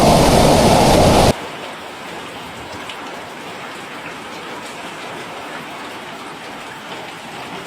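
Heavy rainstorm pours down amid flooding in Guizhou, China, a loud dense wash for the first second, then a steady softer hiss of falling rain continues alone.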